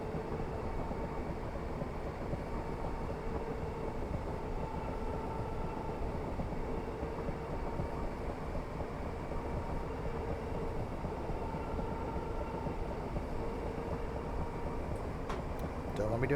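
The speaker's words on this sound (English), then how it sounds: "I actually quite like the noise of this thing for an electrical train" An electric train on the Suburban Glasgow Northwest route in Train Simulator Classic runs with a steady, quiet rumble and hum that holds constant throughout the long stretch.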